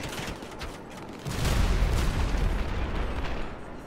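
Cluster bombs explode in GTA Online, a rapid string of heavy booming blasts that starts abruptly partway through and rolls on loudly, with no talking.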